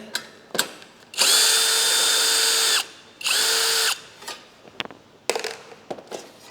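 Power drill running in two sustained bursts, about 1.5 s and then 0.7 s, while removing a 10mm bolt from a Lexus ES300h hybrid during battery replacement, close and loud, with scattered clicks and clanks of tools around it.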